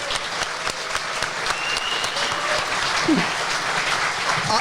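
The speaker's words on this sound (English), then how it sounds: "Everybody, thank you for coming. Give yourself a round of applause" An audience at a live car show event breaks into sustained applause, dense clapping that swells and holds steady, with a voice briefly audible over it.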